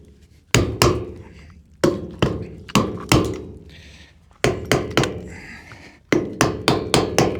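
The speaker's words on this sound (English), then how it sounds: "I should just be able to hammer this down" Hammer blows driving a conduit fitting down in a water well trench, sharp loud metallic strikes in uneven groups of two to five with short pauses between, close and alone without talk.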